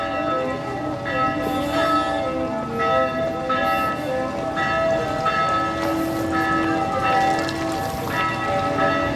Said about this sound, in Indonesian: Tuh ada gereja ya, gereja loncengnya bunyi.